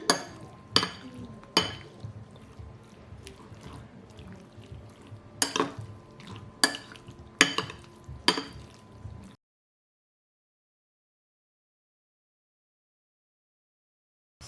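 Seasonings including ginger powder being mixed together in a bowl, a series of close, sharp clinks and scrapes at an irregular rhythm, followed by several seconds of silence.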